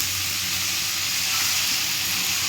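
Pre-fried crab potatoes sizzle loudly in hot oil as they are stirred into a masala for a Bengali crab curry, a continuous bright hiss with faint scraping, no voices.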